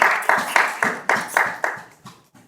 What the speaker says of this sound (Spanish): Un aplauso a la abolición de la esclavitud